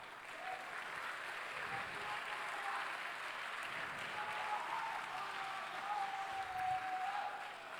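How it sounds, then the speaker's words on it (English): Applause from the audience at the 2019 Formula SAE Michigan awards ceremony is a soft, distant, sustained clapping that fills the hall evenly throughout. "Let's give them a nice round of applause."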